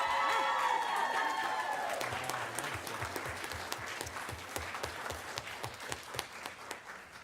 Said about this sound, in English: She might get the loudest cheer tonight